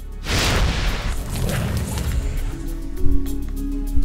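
Dwarven Mortar Crew firing in a strategy video game: a deep, heavy boom opens the shot, followed by a rumbling wash of impact and crumbling debris, then a sharper thump near the end.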